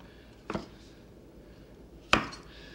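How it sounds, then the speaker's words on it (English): A large knife cutting a carrot on a board in a kitchen, two separate sharp chops about a second and a half apart against a quiet room. "And you just cut your carrot like that, and then cut it in half that way."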